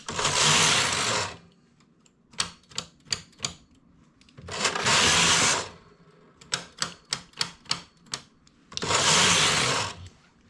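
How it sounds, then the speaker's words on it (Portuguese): A domestic knitting machine works rows of a piece that mixes several stitch patterns, with a cable worked on the same needle. Three long, loud rasping sweeps of the carriage alternate with bursts of sharp clicks and clacks as needles are handled between passes. "A máquina continua selecionando esses pontos da lateral tranquilamente, normalmente."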